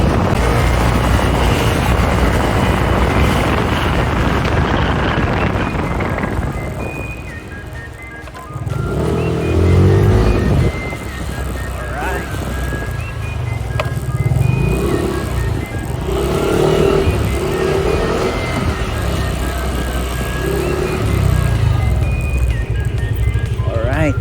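A Yamaha Aerox scooter fitted with a new pulley set and combi flyballs accelerates with a steady, loud engine drone that dips briefly and then rises again. It stays close for the whole stretch.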